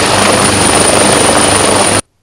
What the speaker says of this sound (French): Félix-Antoine Tshisekedi Tshilombo, est arrivé en hélicoptère ensemble avec le président zambien Edgar Chagwa Lungu à Kazungula du côté zambien